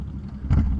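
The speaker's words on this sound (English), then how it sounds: "I'm hoping you can hear anything at all with how loud this motorcycle is" Loud, low engine rumble from a motorcycle with its baffles removed, heard up close while riding, with a steady roar that surges louder partway through and a hint of wind buffeting.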